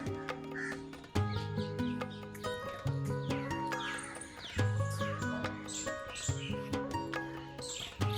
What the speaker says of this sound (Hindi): यहाँ पर चारों तरफ चिड़ियों की आवाज़ है, चिड़ियों की आवाज़ें हैं और गिलहरी की आवाज़ है यहाँ पर।